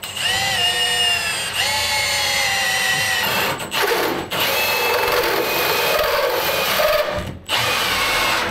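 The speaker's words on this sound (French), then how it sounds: "j'espère que ma scie cloche va être de la bonne taille" A battery power drill near the end of its charge runs a hole saw steadily into oak, grinding loudly and continuously, with a couple of brief pauses and slowdowns near the end.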